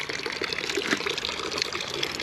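Water pours steadily into a water bottle with a continuous gushing, splashing sound, fairly close and uninterrupted.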